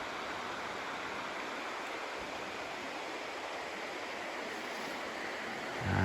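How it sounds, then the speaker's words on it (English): A river rushing through a ravine in Hokkaido, a steady broadband roar of flowing water, constant and unbroken, heard alone without voices. "And there's the river flowing through the ravine, the canyon."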